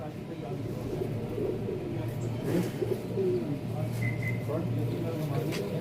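Male pigeons of a single bloodline, kept in pairs, coo in soft low repeated bursts close by, with a steady murmur of voices and background noise running under them.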